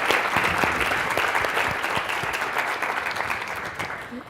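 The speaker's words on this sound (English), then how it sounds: "applause" A round of applause from the audience for the panelists at a health disparities leadership summit, a dense continuous clapping that holds steady and slowly tapers over several seconds.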